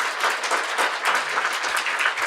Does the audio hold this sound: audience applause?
yes